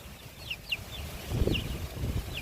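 Soft hen clucks over a low, busy farmyard background, with a few faint high chirps scattered throughout.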